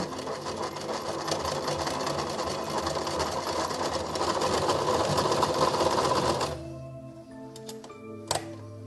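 A sewing machine, turned first by hand and then driven, runs in a loud continuous whirring stitch for over six seconds, then stops, leaving a few light clicks and a sharp knock.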